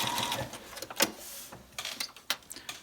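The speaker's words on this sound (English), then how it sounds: "Backstitch again for 3 stitches." A sewing machine backstitches a cloth face mask in short bursts of rapid stitching, separated by brief pauses and clicks, close and fairly quiet with no talking.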